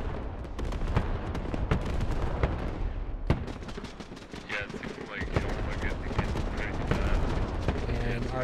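Artillery fire and gunshots in the video game Squad, a dense, continuous battle din of booms and rapid cracks. Several heavy thumps stand out, and faint voices can be heard underneath.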